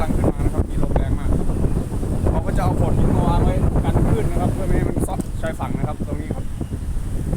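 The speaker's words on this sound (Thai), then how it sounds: "ลมแรงลมแรงพอสมควรนะครับตรงนี้ครับ" Strong wind at Laem Charoen beach in Rayong buffets the microphone in a continuous, rough roar while someone talks underneath it the whole time.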